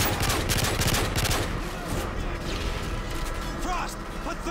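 Rapid bursts of automatic AP90 gunfire in Modern Warfare 3, loud and dense over the first seconds, then thinning into scattered shots and clatter amid game noise and voices.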